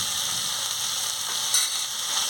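Potol and potato sautéing in a pan, giving a steady, close hiss of sizzling oil with light stirring scrapes and no voices.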